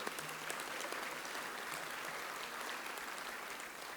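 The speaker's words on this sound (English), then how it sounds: "This actually deserves a round of applause." Audience applause at a city luncheon, an even, continuous patter of many hands clapping, fairly quiet and distant throughout.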